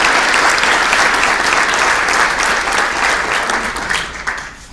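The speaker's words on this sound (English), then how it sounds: "let's give them a round of applause" Audience at an East Dallas Chamber event gives a standing round of applause, loud dense clapping filling the room steadily and then thinning slightly toward the end.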